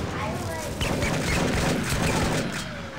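Rapid bursts of gunfire ring out in the Big Buck Hunter arcade game as players shoot mice. The shots are layered dense and loud over game noise and lively background voices.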